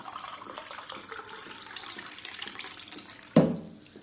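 Tap water running into a cup or vessel at a home kitchen sink, a steady close splashing stream with a sharp clink near the end as the flow changes.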